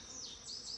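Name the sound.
honeybees flying around a hive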